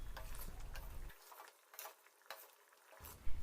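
Anchovy dried-fish curry (karuvadu kulambu) with added water simmering in a pot: a soft, continuous bubbling and crackling, faint and close, with a few light ticks and taps, alone without talk.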